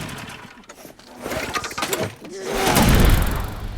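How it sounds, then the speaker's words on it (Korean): A lawn mower engine is cranked but fails to start, giving a rattling mechanical churn of pull attempts that swells into a louder, rough roaring surge at the end. "브랜든은 아버지의 부탁에 잔디깎기에 시동을 걸려고 하지만 잘 되지 않았죠."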